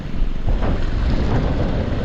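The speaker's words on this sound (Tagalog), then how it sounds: "Ang lakas ng hangin na lang." Strong wind roars steadily across the microphone out in the open before rain, a dense low rumble with hissy gusts throughout and no voices.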